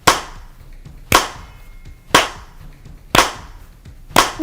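Five slow, evenly spaced claps ring out about a second apart, each a sharp crack followed by a short echoing tail, with no crowd or voices.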